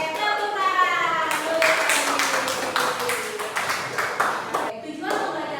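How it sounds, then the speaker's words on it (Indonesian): A classroom of students claps their hands in a loose, fast run of sharp claps partway through, close and fairly loud, with voices chanting and talking over the start and end during a computational-thinking lesson. "Oke, tepuk tangan."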